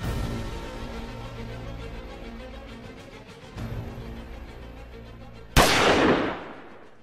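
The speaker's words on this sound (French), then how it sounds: "J'ai entendu un coup de feu." A single sharp gunshot in The Sims 4 cracks out loudly near the end, cutting through a quieter background of game music and ambience.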